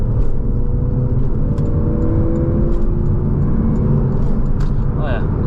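A 2013 Porsche 911 Carrera S Cabriolet with a seven-speed PDK cruises on a freeway in normal mode, giving a steady engine drone and road and wind roar that stay level throughout.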